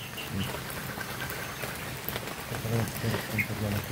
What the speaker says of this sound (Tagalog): kahit abutan kami ng ulan ngayon